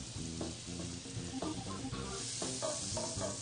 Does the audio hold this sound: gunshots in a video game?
no